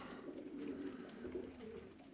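Soft, low pigeon cooing murmurs continuously, faint and somewhat distant, with no other sounds standing out.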